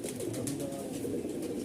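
Malwai Punjabi and Madrasi pigeons, including a white one, coo nearby in a continuous, soft, throaty warble of overlapping low calls, with no talking.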